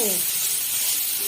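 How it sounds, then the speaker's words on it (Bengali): Fish frying in a pan in a home kitchen gives a steady, close hiss and sizzle throughout, with a brief trace of a voice at the start. "মাছগুলো দিয়ে দিলাম, ভাজা হোক মাছটা।"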